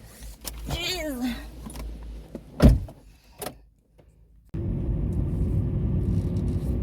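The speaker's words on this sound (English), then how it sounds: "So let me get inside my car." A person climbs into their own car after a trip to a busy mall. A person talks briefly, then a sharp door thunk is heard, then near silence before a steady low rumble of the car interior and engine takes over.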